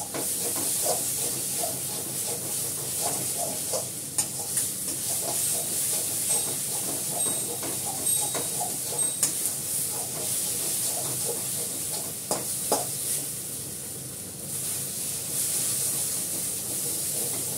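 Poppy seed paste cooks down in a kadai with a continuous low hiss and sizzle, broken by occasional clinks and stirring scrapes, close and fairly loud, no talking.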